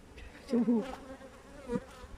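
Honey bees buzzing around an open frame hive, a couple of louder close passes rising over a steady low hum with no talk.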